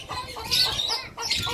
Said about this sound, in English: You've got a cockerel in there, chickens.